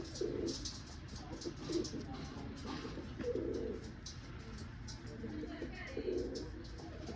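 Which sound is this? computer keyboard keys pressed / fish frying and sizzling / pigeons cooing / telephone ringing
pigeons cooing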